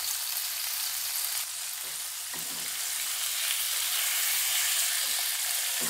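Boiled tofu sizzles steadily in hot oil in a pan with chili, tomato and scallion, a continuous close frying hiss with no talk.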